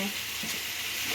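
Soft, continuous sizzling of ridge gourd and potato frying in a pan, steady and close.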